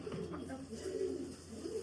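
Pigeons being fed coo in low, soft, continuous murmurs, close by, with faint background voices mixed in.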